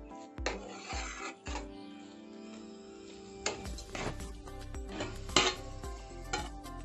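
Coconut rice gets stirred in a pot with a spoon, giving repeated close scraping and rasping strokes against the metal with small clinks, irregular and fairly quiet.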